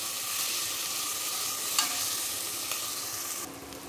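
Green chili paste tempering fries in a pan, a steady close sizzle stirred now and then with a couple of brief scraping clinks, no voices.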